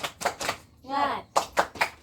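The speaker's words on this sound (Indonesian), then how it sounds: "tepuk semangat dulu ya. Tepuk semangat." Schoolchildren in a classroom doing a rhythmic 'tepuk semangat' clap pattern: three sharp group claps, a short chanted vocal in the middle, then three more crisp claps in even rhythm.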